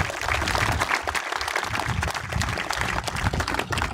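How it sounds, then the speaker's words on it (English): An audience at a sports field grand opening ceremony applauds steadily, dense clapping held at an even level throughout with no talk over it. "We all need to give this guy, as Coach Hamrick said, a round of applause."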